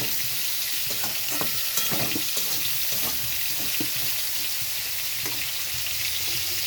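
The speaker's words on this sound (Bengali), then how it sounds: "এখন এটা খুব ভালো করে কষিয়ে নেব" Tomatoes with turmeric and cumin powder sautéing in a pan for a prawn and brinjal curry, a constant sizzle broken by repeated scraping and stirring strokes of a spatula.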